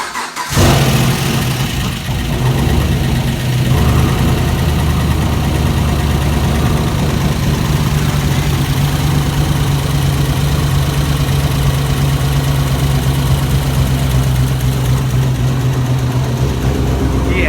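A 2013 Camaro 2SS V8 with a new cam and stock exhaust cranks, fires up and settles into a loud, steady, lumpy idle with a low rumbling throb, close by.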